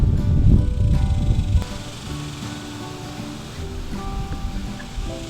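Wind gusting outdoors in an urban front-yard garden, a loud rushing blow for the first second and a half, then settling into a softer steady breeze with faint rustling.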